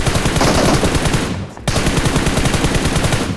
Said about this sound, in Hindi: फटाफट मैं गन उठा के उसको मारता हूँ।